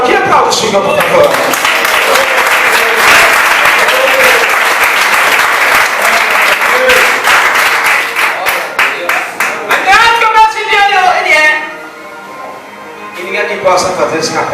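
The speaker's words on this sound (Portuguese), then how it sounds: "Quer aplaudir? Aplaude o Senhor, por favor." A congregation applauds the Lord during a Pentecostal church sermon, with dense, loud clapping sustained for about ten seconds before fading, while a preacher's voice cuts in over and after the clapping.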